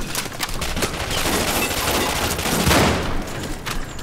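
Sustained gunfire in the video game Cryostasis, a dense loud burst of rapid shots and booms that barely lets up over a few seconds, with no talk.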